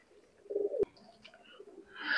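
Pakistani Teddy pigeons give a short, low coo close by, followed by faint chirps and a rising airy rustle in a quiet room.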